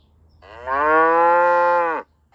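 A single cow gives one clear, sustained moo of about a second and a half, close and fairly loud, swelling in and cutting off sharply over faint background hum.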